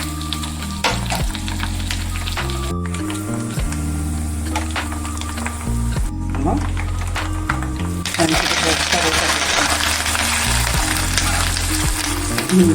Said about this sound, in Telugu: తాలింపు మాడకుండా వేయించుకుంటే మంచిగా బాగుంటుంది